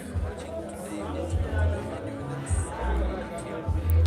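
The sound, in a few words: crowd of spectators chattering at pool final venue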